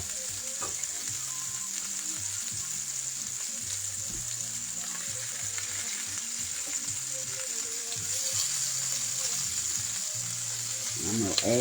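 Seasoned pot roast sears in a hot pan for Sunday dinner, giving a loud, steady, close sizzle and crackle with faint background voices underneath.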